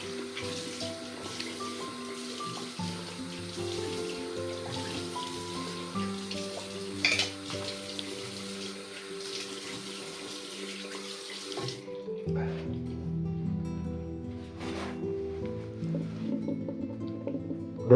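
Water running from a tap and splashing as a face is rinsed after a traditional shave, a steady hiss that cuts abruptly partway through, followed by quieter drips, rustling and handling sounds.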